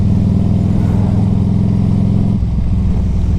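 A 2003 Harley-Davidson Electra Glide motorcycle engine rumbles loudly and close by, holding a steady low throb and then shifting pitch briefly near the end.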